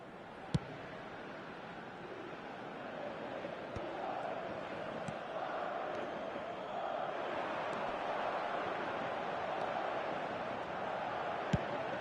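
Football stadium crowd noise from the video game PES, a steady broad crowd roar that swells gradually, with a couple of sharp clicks or thumps standing out on top.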